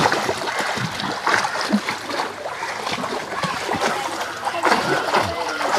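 Water splashes in a newly built home swimming pool, irregular near splashes and sloshes with faint voices now and then in the background.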